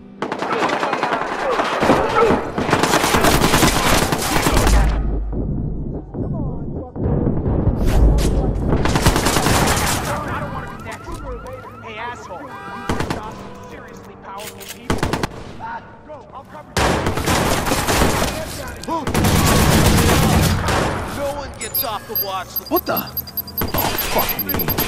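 Gunfire in the video game Watch Dogs, with long loud bursts of rapid automatic shots alongside single booming blasts and glass shattering, running almost without a break while someone shouts over the fighting.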